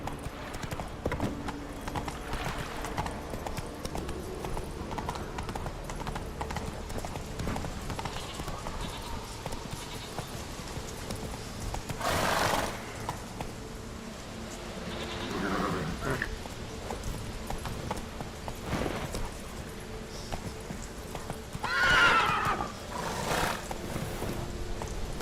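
Roach the horse in The Witcher 3, hooves clip-clopping at a gallop throughout with a couple of loud whinnying neighs breaking through, mixed with game voices and ambient sound.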